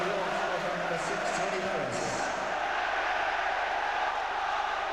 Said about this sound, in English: The cheer from the York City fans will no doubt be magnified around the countries of Great Britain.